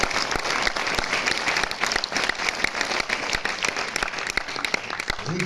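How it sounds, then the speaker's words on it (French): Sustained audience applause at a film presentation in a cinema hall, dense steady clapping from a large crowd throughout, no speech over it. "que vous pouvez lui aussi applaudir"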